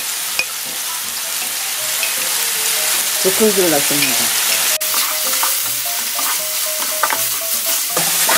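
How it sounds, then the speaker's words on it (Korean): Pork stir-frying in a pot for spicy soft tofu stew, with continuous loud sizzling and the scrape of stirring, while a voice speaks briefly over it. "맛있게 볶아주고 있습니다. 볶는 소리가 예술입니다."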